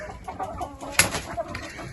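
A hen clucks softly nearby in a quiet, snowy winter farmyard, with a sharper squawk about halfway through.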